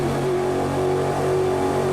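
A rally car engine in a Dakar Rally video game holds a steady mid-pitched drone, revving slightly as it climbs a mountain stage, continuous and fairly loud with no voices over it.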